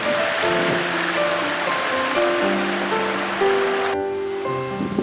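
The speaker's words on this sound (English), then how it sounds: "I don't think I've ever seen quite this much water coming out of the lake before." Water rushes out of Stewart Lake in a continuous, loud roar of flowing outflow, steady and close, with no voices.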